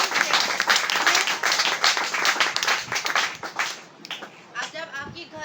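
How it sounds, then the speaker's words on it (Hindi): Church congregation in Gopur village, Assam, clapping for the Lord, a dense burst of rapid applause from many hands that thins out near the end, with a voice speaking over it. "सब लोग सक्सेस होना चाहता है तो प्रभु के लिए ताली बजाओ"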